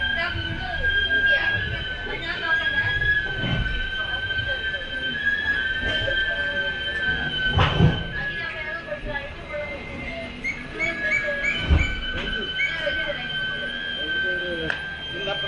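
The 16312 Sriganganagar Express pulls into Udupi station, its wheels squealing in long, high steady tones over a rumbling rail clatter, with voices in the background.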